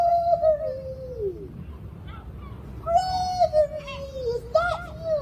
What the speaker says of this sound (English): That's right, just like a seagull.